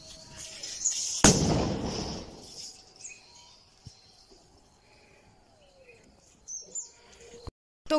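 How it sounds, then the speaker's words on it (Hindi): A sutli bomb firecracker set off outdoors in the early morning during Diwali bursts with one sharp, loud blast followed by a rumbling tail, then quieter scattered crackles and faint bird chirps in the background. "और ये सुतली बॉम्ब और ये कौन सी तो भी बॉम्ब है, मतलब फटाका है, तो वो हम अभी फोड़ने वाले हैं"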